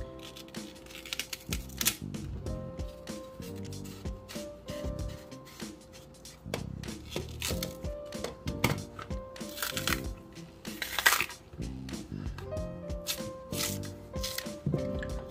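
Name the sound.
knife cutting plantain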